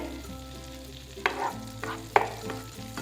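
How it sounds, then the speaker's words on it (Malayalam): Butter melts and sizzles in a pan before chicken goes in, a close, even frying hiss marked by two sharp clicks of a utensil against the pan. "വെണ്ണ നന്നായിട്ടൊന്ന് മെൽറ്റ് ആവട്ടെ"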